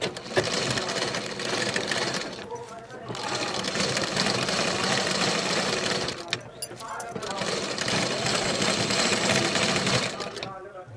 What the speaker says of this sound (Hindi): अब हम डबल सिलाई लगा लेंगे।